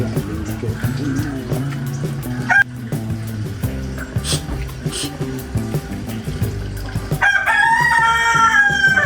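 A rooster crows and hens cluck through a rural soundscape, with a loud crow rising near the end over background talk and noise.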